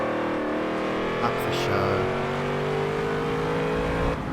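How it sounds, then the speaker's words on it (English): Ford and Holden race cars at Bathurst in Forza Motorsport 7 drone continuously with engine pitch rising under acceleration, loud and close, while someone talks briefly over the engine noise. "These vehicles are both nice sounding cars."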